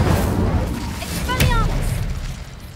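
An Incendio fire spell is cast in Hogwarts Legacy: a single sudden burst of flame near the middle, a voice briefly calling out with it, then a fading rumble.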